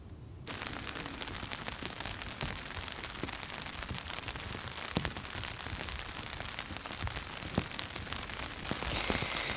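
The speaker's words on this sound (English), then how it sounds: "Unfortunately, it is freezing rain. It is just flat out pouring the rain right now." Heavy freezing rain pours steadily onto a tent at night during a thunder and ice storm, a dense, constant patter with occasional sharper drops and no voices.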